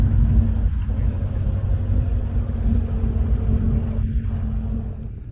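A Lotus Evora rolls in at an Arizona classic car show, its engine giving a steady low rumble that holds at constant loudness and stays close for the whole stretch, with no talk over it.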